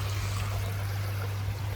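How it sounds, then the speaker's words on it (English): Water pours steadily into a raised koi pond, a continuous close splashing trickle under a constant low electrical hum, with no voices. "it's just got the water pouring straight into it"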